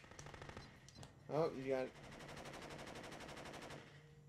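Tank machine gun fire in the video game Rise to Honor: a steady rapid stream of automatic shots runs through most of the stretch, moderately loud, with a brief voice cutting in partway.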